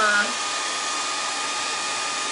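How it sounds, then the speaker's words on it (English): A blow dryer runs steadily to dry a freshly applied wood stain, giving a loud, continuous airy roar that stays even from start to finish after a brief rise at the onset. "I'm going to take my blow dryer real quick"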